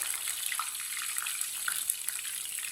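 Potato kebabs fry over a low flame, a steady soft sizzle with tiny crackling pops, faint and even throughout.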